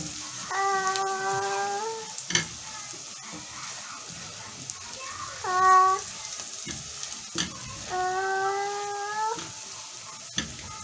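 Dried coriander goes into a hot frying pan of eggplant moussaka, giving a steady high sizzle. Stirring knocks sound now and then, and tonal, voice-like sounds come and go over it.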